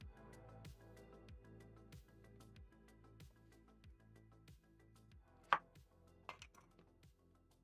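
A knife chops the ends off vegetables on a cutting board, making a quiet, steady series of close, evenly spaced thuds, with a couple of sharper clacks near the end.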